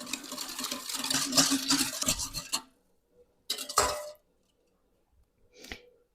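Close scraping and rubbing of a utensil against a bowl while mixing sugar into sweet yeast bun dough for a few seconds, then two brief scrapes after quiet pauses.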